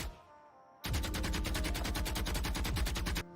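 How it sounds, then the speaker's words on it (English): A rapid burst of automatic weapon fire from the video game Valorant, loud and evenly paced shots running for about two and a half seconds before cutting off abruptly. "such as weapon sounds"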